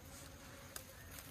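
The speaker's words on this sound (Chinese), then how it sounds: "这窝蜜蜂 新来的" Buzzing of a newly arrived bee colony, recently swarmed into a hive barrel in the countryside, a steady faint hum that runs throughout with no talk.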